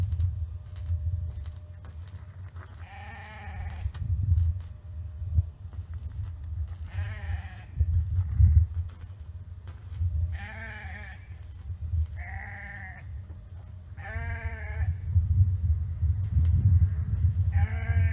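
Sheep bleating on a farm, with several drawn-out wavering bleats at irregular intervals over a low steady background rumble, fairly close and loud.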